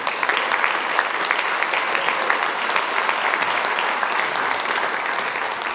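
A crowd applauding scholars at a senior awards ceremony, dense continuous clapping from many hands, loud and steady for several seconds with no talking.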